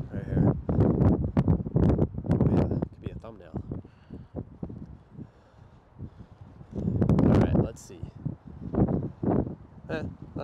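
Strong gusts buffet a camera microphone on an outdoor ledge in Boston, loud rumbling bursts that rise and fall in waves.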